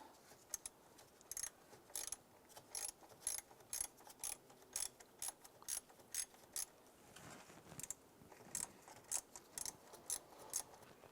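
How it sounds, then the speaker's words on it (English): A ratchet with a deep socket and short extension loosens a 10mm intake bolt on a Ford Fiesta, giving a quiet, rapid series of clicking bursts in an uneven rhythm, close and alone. "Let's go ahead and loosen that bolt."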